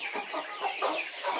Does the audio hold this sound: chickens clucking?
yes